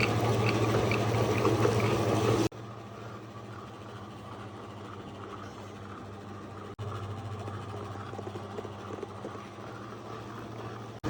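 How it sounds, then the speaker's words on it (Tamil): A Smart Fingers Masala+ tabletop wet grinder runs in batter mode on soaked urad dal for medu vada, giving a steady motor hum with a wet churning texture, louder for the first couple of seconds, then even and continuous. "மெதுவடைக்கு ஸ்மார்ட் ஃபிங்கர் மசாலா கிரைண்டரில் பேட்டர் மோடில் தான் ஆன் பண்ணி போட போகிறோம்"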